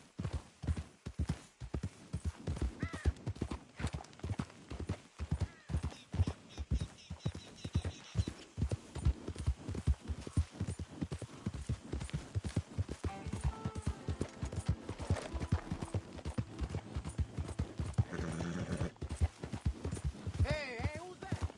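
Horse hooves clip-clopping in the Red Dead Redemption 2 video game, a steady quick rhythmic trot close up, with a brief whinny and some talk in places.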